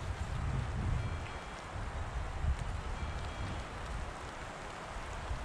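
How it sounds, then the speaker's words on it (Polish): Snow and hail fall outdoors at an abandoned 300-year-old farmstead, making a steady, fairly faint patter and hiss that continues without a break. "Śniegiem, gradem."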